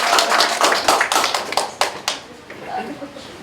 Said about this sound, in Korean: 박수 하나.